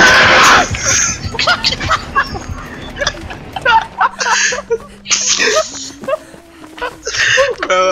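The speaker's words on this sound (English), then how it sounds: "Why'd you scream like that, man?" A player yelps and screams in bursts while playing the horror game Dead by Daylight, with sharp shrieks and whimpering cries between talk and laughter, loud and close, with a low tone droning underneath.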